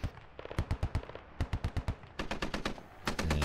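Gunshots in the military shooter Squad, fired from the top floor of a four-story building: quick, sharp bursts of repeated shots in rhythmic clusters, loud and close, with a heavier rumble at the end.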